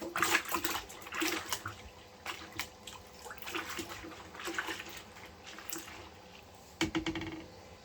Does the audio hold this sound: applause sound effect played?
no